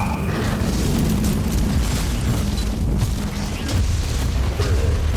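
Cogitator ability explosion in the video game Warhammer 40,000: Inquisitor - Martyr, a loud rumbling boom and bursting blast that fills the whole stretch, with heavy low-end crackle and sustained roaring debris.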